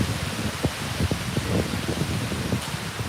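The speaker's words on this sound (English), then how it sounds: "It's really getting windy here." Broad, steady rushing of wind through autumn woods with rustling leaves, dotted with faint scattered ticks and knocks of falling acorns.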